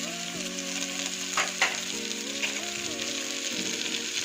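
Tomatoes are sautéed and mashed in a pan for rice and lentil dish, with a continuous close sizzle and a couple of utensil scrapes. A steady tonal hum of music runs underneath.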